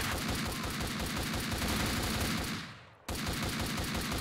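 Rapid automatic gunfire in the video game Max Payne 2, a dense, loud, continuous volley that cuts out for a split second and then resumes.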